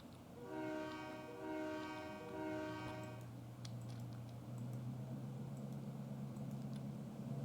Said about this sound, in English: we're back with our very long sand train